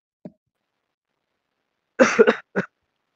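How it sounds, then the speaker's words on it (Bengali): A person coughs over a live online call: one short faint cough, then a cluster of three harsh coughs and a final cough, close and alone against silence. "এই জন্য তারা এসে এসে বারবার কাশি দিচ্ছে"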